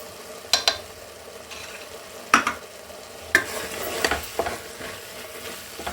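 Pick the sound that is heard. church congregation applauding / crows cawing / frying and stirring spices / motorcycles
frying and stirring spices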